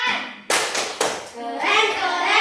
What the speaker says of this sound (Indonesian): tepuk keren dulu untuk Mutia